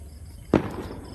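Fireworks at the end of Buddhist Lent in Vientiane, Laos: one sharp distant boom with a short echoing tail over faint outdoor background.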